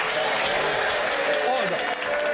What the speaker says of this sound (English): you ought to be embarrassed by clapping